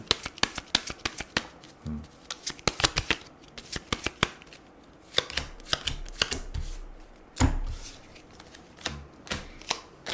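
A tarot deck shuffled by hand makes rapid, close riffles and flicking slaps in uneven bursts, with brief pauses between rounds and no speech.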